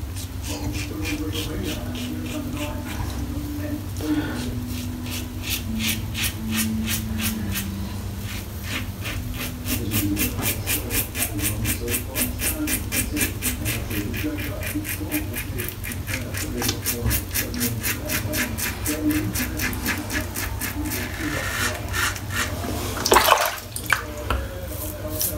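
Close, rhythmic scraping of a Rockwell 6C safety razor shaving across the grain over soap lather, rapid short strokes repeating steadily with a brief louder rasp near the end.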